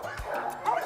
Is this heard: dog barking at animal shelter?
yes